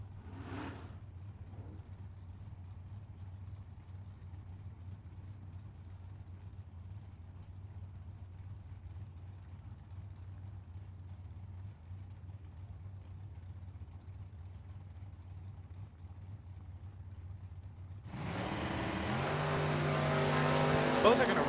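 At a drag strip, a 1972 Vega and a 1970 Camaro idle quietly under announcer talk for most of the time, then erupt into a loud roaring launch near the end.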